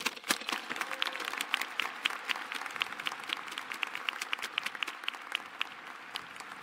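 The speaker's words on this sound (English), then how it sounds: "Please join me in a round of applause in recognition of these students and their significant achievements" Sustained applause from a graduation audience honoring degree recipients, dense steady clapping from many hands filling the room at moderate volume, with no talk over it.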